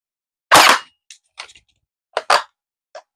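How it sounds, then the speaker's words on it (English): A Zius BK1S bolt-action toy blaster is dry fired: one sharp loud snap, followed by several lighter clicks and clacks as the bolt is handled, with a second strong snap near the end. "Let's do a dry fire."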